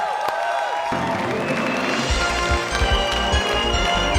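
Studio audience on a game show applauds and cheers to welcome a mother and son as guests, the clapping swelling from quiet into a dense, steady wash under music.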